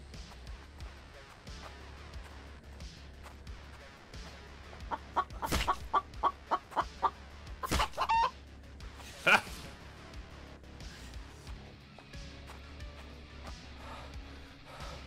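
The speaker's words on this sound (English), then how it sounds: "The chicken sounds like it's right below me." A chicken clucks in the survival game The Infected, a rapid run of short, sharp clucks in the middle of a quieter game soundscape with a low hum underneath.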